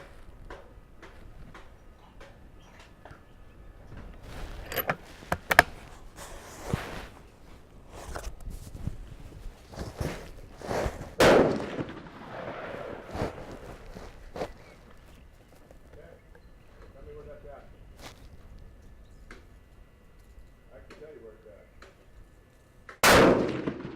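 Rifle shots at a shooting range with Starline brass and 43 grains of 4350 powder, several sharp loud cracks spaced irregularly amid handling clatter and clanks, with quieter stretches between.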